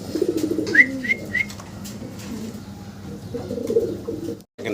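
Pigeons of a native Bangladeshi breed cooing in a market cage, several low throaty coos in bursts with a few higher chirps, close and moderately loud.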